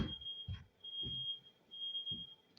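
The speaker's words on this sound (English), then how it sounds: "I think the smoke alarm is going off" A thin, high-pitched smoke alarm tone sounds continuously and faintly, while several soft thuds or low knocks occur at intervals beneath it.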